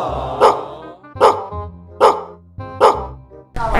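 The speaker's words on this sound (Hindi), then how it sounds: "कुत्ते पागल।" A dog barking loudly and close, five sharp barks spaced about every half second to second, alone with no talk.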